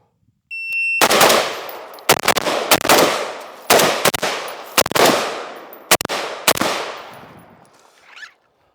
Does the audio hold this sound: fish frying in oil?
no